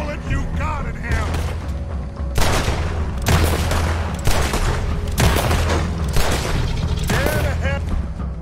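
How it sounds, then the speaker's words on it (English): Repeated heavy gunfire in the Western game Red Dead Redemption, a string of loud rifle and pistol shots at irregular intervals over a rumbling battle backdrop, with shouting voices in between. "Put every bullet you got in him!"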